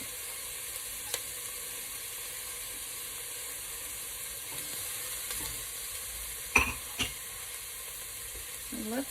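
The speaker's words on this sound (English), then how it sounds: "saute our onions just until they start to become translucent" Onions and garlic sautéing in a pan, a steady soft sizzle with occasional scrapes and clinks as the food is stirred, fairly quiet and close with no talking.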